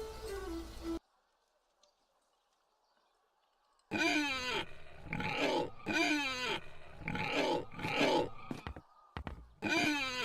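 Pigs in the video game The Dark Eye: Chains of Satinav give a run of loud, close grunting and squealing calls in rapid bursts, following a short burst of other game sound and a few seconds of silence.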